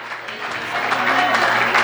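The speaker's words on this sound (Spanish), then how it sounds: "dale un aplauso a Dios" Church congregation clapping in praise during a worship service, a steady wash of applause from many hands that swells slightly louder as it continues, with a low hum underneath.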